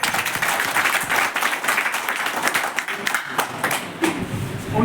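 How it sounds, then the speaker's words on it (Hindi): An audience bursts into strong applause, many hands clapping unevenly with rising and falling swells over a few seconds, close and loud. "एक बार जोरदार ताली से।"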